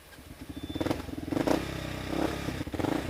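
A faulty used motorcycle engine sputtering and chugging unevenly on a road, surging and faltering in rough pulses with rattling clatter, close by.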